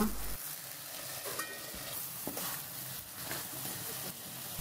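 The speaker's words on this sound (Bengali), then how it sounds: "এই কড়াইতেই আবার আলুগুলো দিয়ে মশলার সাথে মিশিয়ে নিচ্ছি। কিছুক্ষণ এভাবে নাড়াচাড়া করে রান্না করে" Potatoes being cooked with spices in a wok with chicken feet, wings and gizzards, a soft sizzle under scraping and stirring from a spatula, with occasional clinks against the pan.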